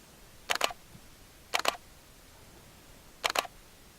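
A camera shutter fires three times while photographing a hiker among trees with flash, each release a quick double click, spaced about a second apart and close by in a quiet outdoor setting.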